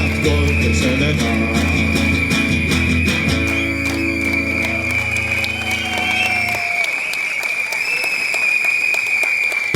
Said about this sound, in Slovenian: Zdaj pa zaploskate, nam pa zapiskate.